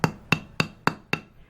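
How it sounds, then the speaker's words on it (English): A small hammer taps a pin out of a metal watch band, five sharp, evenly spaced metallic clicks in quick succession, close and clear. "Couple little taps with a hammer."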